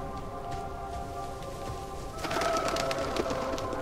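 A bird coos in the video game Diablo 4, soft repeated calls that rise and grow brighter partway through, with a constant ambient drone from the game.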